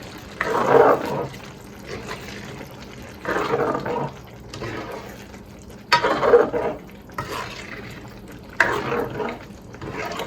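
A spoon stirs chicken pulao rice in a pot as the water nearly dries, four or five wet, scraping swishes in an uneven rhythm, close and moderately loud.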